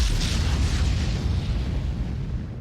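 A missile warhead detonates in the Starbase space game, one heavy, deep boom with a bright crackling burst at the onset that rumbles and slowly fades over a couple of seconds.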